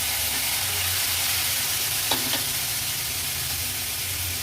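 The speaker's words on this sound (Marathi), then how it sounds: "नंतर ह्याच्यामध्ये मी हे चाप घालते" Mutton chops fry in a pan with crushed ginger and garlic, turmeric and asafoetida, for an Agri Koli style dish. A continuous, even sizzle holds throughout, broken once near the middle by a brief metallic clink.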